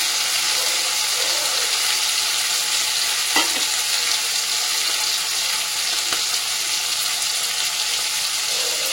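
Green peas fry with tomato and spices in a wok, making a steady, bright sizzle with a couple of soft stirring knocks, close up and without speech.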